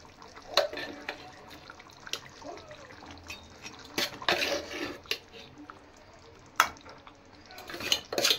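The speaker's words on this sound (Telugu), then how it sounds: "ఇక మనం దీంట్లోకి గోంగూర యాడ్ చేసుకుందాం" Gongura leaves are added to a farm-chicken curry and stirred in a pan, with soft scraping and clinks of a spoon against the metal and a faint sizzle underneath, broken by a few sharper knocks.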